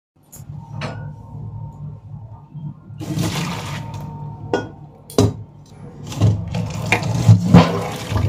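Cooked leafy greens tipped from a pot into a perforated colander basket in a home kitchen, giving wet splashing and pouring with clattering metal knocks, close and fairly loud, with no talk.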